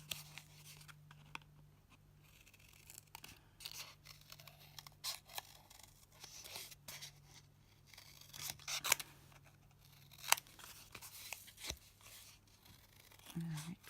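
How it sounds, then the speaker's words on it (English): Scissors cutting a butterfly shape from thick watercolour paper, repeated crisp snips and paper rustles close up, with a voice talking quietly in places. "be careful when you're cutting your butterfly with this thick paper, the antennae"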